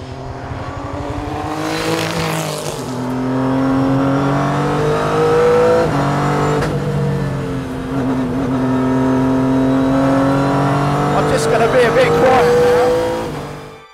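A Renaultsport RS.01 racing car drives on a circuit, its engine loud and near as it revs up through the gears and eases off, a sustained rising and falling roar.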